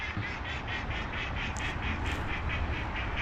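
A duck quacks in a steady repeated run of about a dozen calls, loud and close over constant outdoor rumble during a walk.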